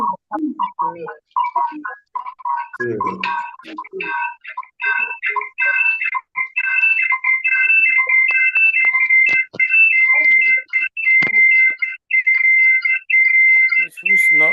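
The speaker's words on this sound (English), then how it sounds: "Whose phone is making noise here like this?" A phone ringtone goes off during an online Zoom meeting for a school summit, a repeating high electronic melody that starts after a few seconds and keeps looping loud and steady over brief talk at the start.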